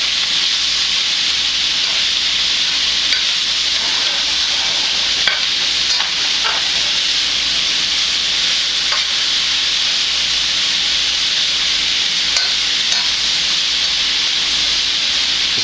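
Sausage and sauerkraut fry in a pan with a steady, bright sizzle and hiss that holds level throughout, broken only by a few faint clicks and stirring taps, with no voices.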